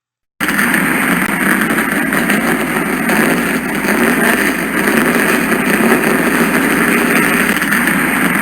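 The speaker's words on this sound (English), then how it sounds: "The engines have been fired and the field is set." Race car engines rumble at Circuit of the Americas as the field starts up, a loud, steady mass of idling and revving engine noise that begins abruptly and holds throughout.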